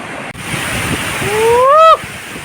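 A waterfall in rain, a loud steady roar of rushing water close by, with a brief rising whistle-like tone toward the end.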